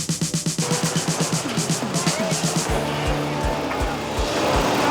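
A race car on a racetrack passes with a loud, rapidly pulsing engine note, then shifts into heavy low rumble and repeated low thumps, with tire squeal and skidding along the way; no talking.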